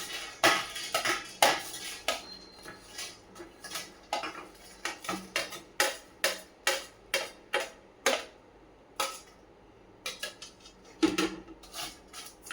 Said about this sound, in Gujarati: આમાં ત્યાં સુધીમાં આપણે જે ગુંદ લીધો છે એને આપણે ભૂકો કરી લઈશું